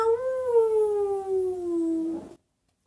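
A single long, steady howl imitating a wolf, gliding slowly downward in pitch over about two seconds, loud and close, then cuts off abruptly.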